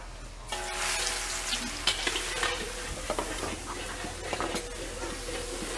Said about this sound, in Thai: เจียวกระเทียมให้เหลืองก่อนนะคะเมื่อน้ำมันร้อน